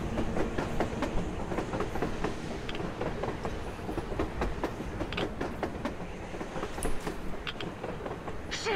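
A train rolls past on the surface in the post-apocalyptic Moscow of the Metro Exodus game, with steady rumbling and clickety-clack wheel rhythm, loud and close, continuous throughout with occasional metallic squeals.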